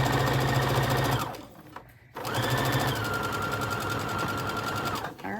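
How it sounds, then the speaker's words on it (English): A sewing machine stitches across pinned fabric for a tote bag with a loud steady whir, pauses briefly, then runs again at an even pace until near the end. "This sewing over your pins is stressing me out"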